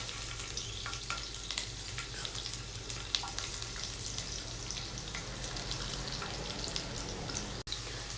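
Garlic fries in three tablespoons of oil in a pan, giving a steady, close hiss and crackle of sizzling that runs without a break.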